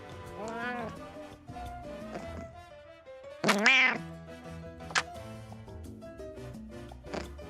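A pet cat held up close to a microphone meows a few times, loud and near, while someone talks over and around the cries and a couple of thumps sound.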